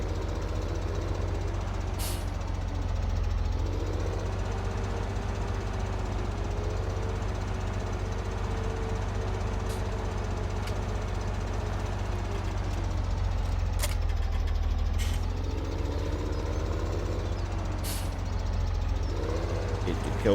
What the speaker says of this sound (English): the tractor's about to go right back to the field